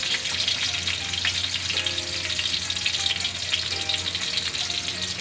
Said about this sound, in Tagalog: Kaya naman natin na maluto po yung bawang at saka yung luya.